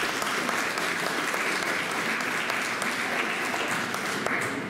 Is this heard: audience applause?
yes